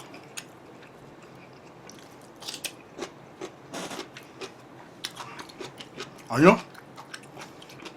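Chewing kimbap at a Korean mukbang meal, with wet close-up mouth sounds and soft crunches, one sharp louder bite or crinkle near the end, in a quiet room.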